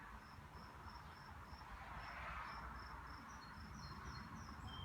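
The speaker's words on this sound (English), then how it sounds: "I got some good amens from the grasshoppers" Grasshoppers chirp outdoors in a steady, evenly spaced series of high pulses that continue throughout, with a soft background hiss.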